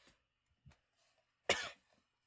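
A voice imitates a woman coughing and gasping during a tabletop fantasy game, with a couple of small faint sounds and then one sharp, close, harsh cough.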